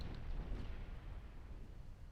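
Naval gunfire pounding a destroyer in the warship game Ultimate Admiral: Dreadnoughts, heard as a dense, low rumbling barrage of blasts that holds steady throughout, without speech.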